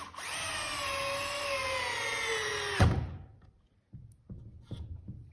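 Festool CXS drill/driver at speed 2 driving a 3-1/8-inch number 8 cabinet screw, a steady whirring spin that drops slightly in pitch for nearly three seconds, then a sharp clutch click and a few quiet clunks.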